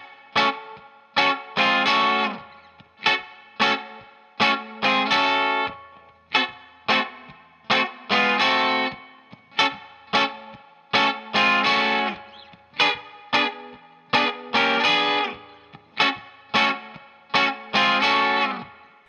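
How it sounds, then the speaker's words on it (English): Electric guitar chugs through a 12-bar blues rockabilly shuffle, loud and close, with short, punchy chord strokes in a steady bouncing pattern and lightly distorted tone. "That's the 12-bar blues with that classic rockabilly shuffle rhythm."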